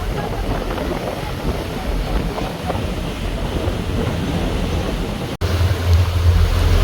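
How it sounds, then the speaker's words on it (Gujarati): Sea waves and wind buffeting a boat on open water off Dubai Marina near JBR and Palm Jumeirah, a continuous loud rushing wash with wind noise on the microphone and a brief dropout near the end. "હવે અધ વચ્ચે દરિયામાં આવી ગયા છે"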